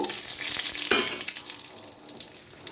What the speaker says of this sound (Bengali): তেলটা গরম হয়ে গেছে এবার শুকনো লঙ্কা আর সর্ষে ফোড়ন দেব